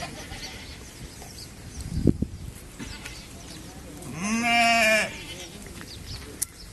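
Sheep and goats in a flock being moved along during seasonal migration, with one clear, loud, drawn-out bleat mid-clip over a noisy outdoor background with scattered knocks.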